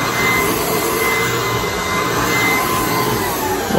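A Shark Pet cordless stick vacuum runs at max power on turbo boost, giving a loud, steady, close-up motor roar with a high whine that holds evenly throughout, with no talking.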